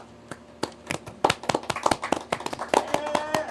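Sharp hand claps ring out during a podcast interview, several snapping hits scattered among people talking close by.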